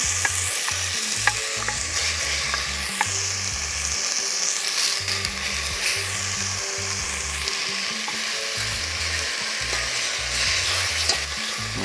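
Jamaican oxtail searing in a pot while being turned and stirred so it does not scorch, making a continuous dense sizzle with repeated low stirring thumps in an uneven rhythm, close and loud, without any talking.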